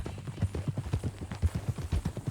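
A horse's hooves clip-clop in Red Dead Redemption 2, a quick, even walking rhythm of dull thuds, close and clear with no talk over it.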